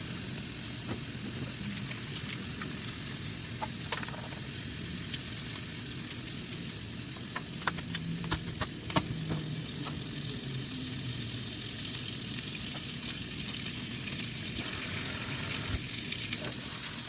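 A boneless ribeye steak, a fatty Delmonico cut, fries in a pan with a steady, dense sizzle and crackle. Small pops and spits scatter throughout, the sound staying close and even, with no talking.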